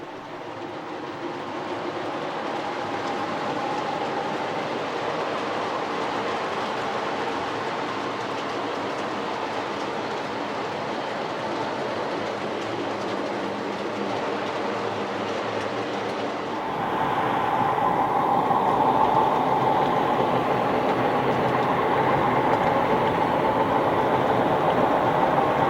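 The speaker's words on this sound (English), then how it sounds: "this is always a busy place to watch trains" Model trains roll around a horseshoe curve on a layout where all the main tracks meet, giving a steady clickety-clack of wheels on rail joints. It runs alone, with a louder, closer passage in the final stretch.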